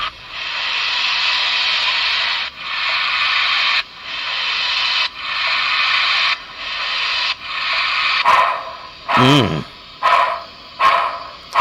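A Broadway Limited model steam locomotive's sound system starts up with a series of loud, hissing chuffs, steady then breaking into short quick bursts, with a brief speaking voice partway through.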